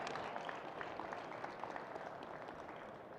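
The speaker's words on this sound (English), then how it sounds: "Let's give them a round of applause." Steady applause from an audience at an agricultural innovation competition, a dense patter of many hands clapping at moderate distance, gradually easing off.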